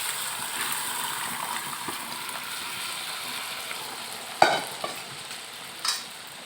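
Boiled lentils go into a pan of frying fish and spice mixture under a constant hiss of sizzling. A sudden splash and surge lands midway, and a smaller splash follows near the end.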